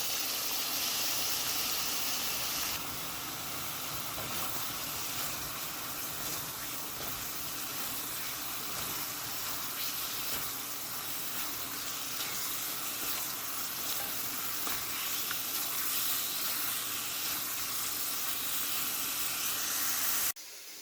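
Spaghetti goes into a pan of simmering Mutti pasta sauce, a steady close sizzle and hiss with stirring, unbroken for the whole stretch, no voices.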